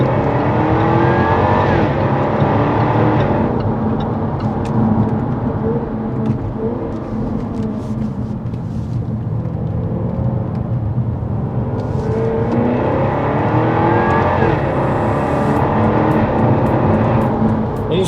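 Jaguar F-Type V8 R roars under hard acceleration, a loud, close, sustained engine note that rises and swells through several gear pulls.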